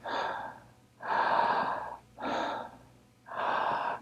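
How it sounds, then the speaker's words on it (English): Slow diaphragmatic belly breathing, four long, even breaths alternating in and out with a steady calm cadence, close and clearly audible. "Now you may be able to hear my breath, and that's strictly to give you a sense of cadence, some rhythm."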